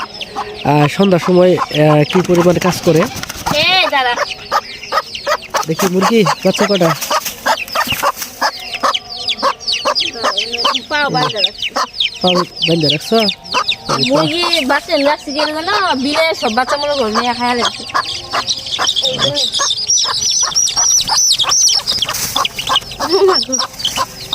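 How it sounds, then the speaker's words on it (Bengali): A hen clucks repeatedly while her ten chicks peep in a busy, continuous chorus close by, with people talking at times in the background, at dusk in a village. "একটা মুরগির দশটা বাচ্চা আছে"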